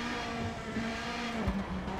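A rally car in the WRC 9 video game drones through hairpin turns, engine hum steady with a brief tire squeal and a downshift blip near the end of a short stretch, no talking.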